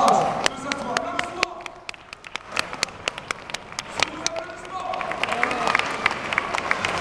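Scattered applause from a crowd at a horse presentation, uneven individual claps over background murmur and voices, swelling toward the end.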